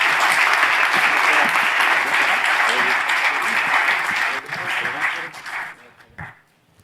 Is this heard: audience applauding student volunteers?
yes